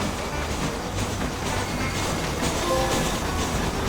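A train rolls past on the tracks in the Red Dead Redemption 2 video game, a steady dense rumble with clattering wheels, loud and continuous throughout with no voices.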